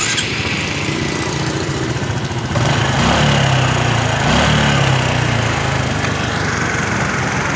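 A Honda Future 125 motorcycle engine with modified cams putters at idle, then revs up louder partway through and keeps running steadily, close by, with no speech.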